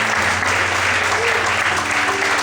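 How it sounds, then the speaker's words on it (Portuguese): Church congregation applauding together during an evening worship service, a dense steady wash of clapping filling the room with a low hum beneath and faint voices mixed in. "Será que você pode aplaudir e glorificar a Deus nesta noite?"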